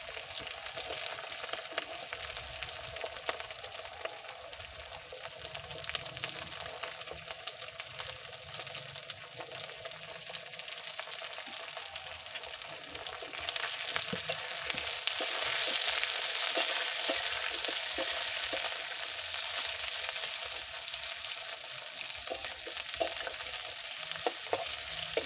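Capsicum and onion fry in a pan for chilli chicken, a steady close sizzle with occasional stirring scrapes that swells louder midway through and continues alone without talk.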